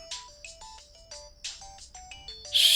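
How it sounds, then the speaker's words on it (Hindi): A cheerful electronic phone ringtone plays a quick melodic tune of short bright tones, close and clear, with no one talking. "किसका फोन आ रहा है यार?"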